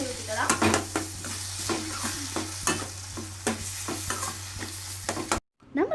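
Egg being stirred as it fries in a pan with ridge gourd, a steady close sizzle under repeated scraping strokes of a spoon, ending in a brief silence.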